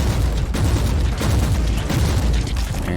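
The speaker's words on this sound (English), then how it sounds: "And these, oh, they just exploded like so." Enemies blow up in the action game Warhammer 40,000: Inquisitor - Martyr, with heavy booms and bursts tumbling over each other in a loud, dense stretch of combat.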